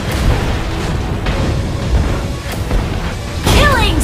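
A turret is destroyed in the mobile game Mobile Legends with a loud booming blast over dense battle noise, followed by a brief sweeping chime near the end.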